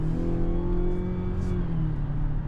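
A 2026 Mazda CX-70 with an 8-speed automatic pulls hard under acceleration from inside the cabin, a steady droning engine note with rising harmonics sustained and loud throughout, no talk over it.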